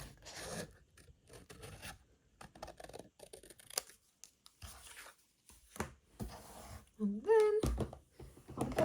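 Scissors snip and rasp through paper around a stamped shape in a close papercraft session, with irregular bursts of cutting and brief pauses and a short tonal squeak near the end.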